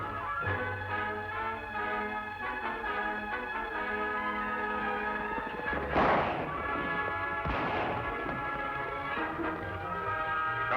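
Two sharp gunshot cracks ring out a second or so apart in an old Lone Ranger radio western drama, cutting through sustained orchestral music that plays underneath, with no talking.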